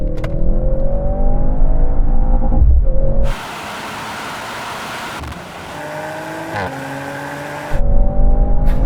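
AMG C63, BMW M3 and Audi RS4 cars accelerate hard in a drag race, engines revving loudly and climbing in pitch through gear changes, broken by a stretch of quieter, rushing road and wind noise before the revs return.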